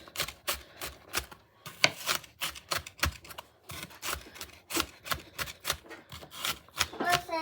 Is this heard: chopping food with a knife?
yes